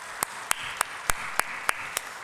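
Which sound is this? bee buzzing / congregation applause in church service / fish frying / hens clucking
congregation applause in church service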